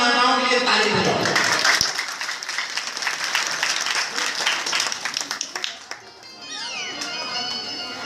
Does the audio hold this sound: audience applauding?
yes